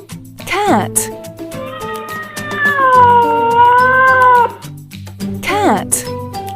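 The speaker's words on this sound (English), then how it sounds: "Cat." A cat gives one long, drawn-out meow that rises and falls. Brief swooping vocal sounds come just before and after it, over a soft background melody.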